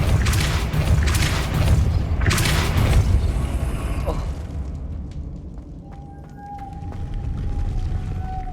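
A Depulso spell fires in the Hogwarts Legacy video game, a loud booming burst with mechanical clanks and creaks, then the noise fades to quieter ringing tones.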